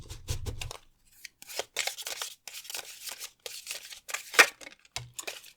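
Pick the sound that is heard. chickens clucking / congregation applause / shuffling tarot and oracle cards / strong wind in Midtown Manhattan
shuffling tarot and oracle cards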